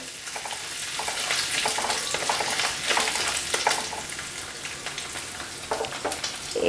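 Two tablespoons of grated coconut frying with cumin seeds in a pan for ghugni, a steady close sizzle with scattered crackles and stirring scrapes, no voices over it.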